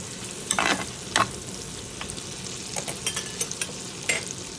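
Potato and tomato fry in a pan with a continuous crackling sizzle, broken by a few loud stirring scrapes near the start and lighter spoon strokes later, close and without speech.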